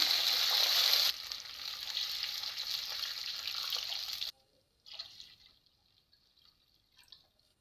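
A loud hissing rush as water hits a hot pan for sorghum rava upma, roaring for about four seconds, then cutting off to quiet bubbling and a few soft drips.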